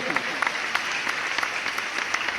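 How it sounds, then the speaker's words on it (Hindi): Audience clapping at a Hindi comedy poetry show, a steady dense patter of applause from a crowd, fairly even in loudness with no lull across its short length. "एक बार तालियां हो जाइए आनंद की"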